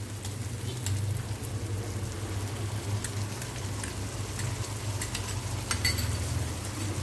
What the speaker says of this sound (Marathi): चांगलं परतून घेते।